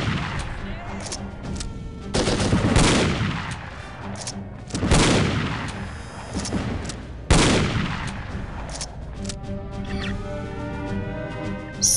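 Gunfire in the 2002 video game No One Lives Forever comes in several sharp, loud broadband bursts a few seconds apart, each decaying into a rattling tail over background game sounds.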